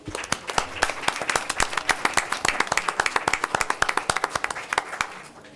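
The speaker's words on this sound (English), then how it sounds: "Let's give them a round of applause again, guys." Audience at a Board of Education meeting applauds retiring school staff, a few dozen distinct hand claps at a steady, fairly dense rhythm, moderately near and clear, tapering off at the end.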